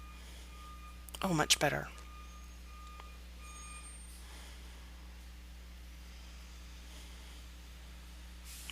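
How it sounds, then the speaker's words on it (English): Construction truck reversing beeps drift in from roadwork on a nearby road, a faint steady series of tones far in the background, with a brief burst of speech near the start. "Can you hear the construction going on in the background? They're still working on our road."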